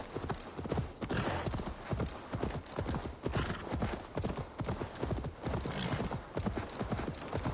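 Steady, rapid clip-clop of horse hooves trotting in the video game Assassin's Creed Valhalla, loud and close, with a faint whinny in the mix; no talking.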